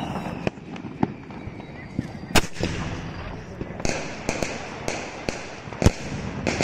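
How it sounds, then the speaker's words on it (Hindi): A large sky shot firework fires off in a series of sharp cracking bursts over several seconds, loud and close with irregular spacing and a crackling wash between reports. "चलिए इस बड़े वाले स्काई शॉट को जला के देखते हैं कैसा चलता है"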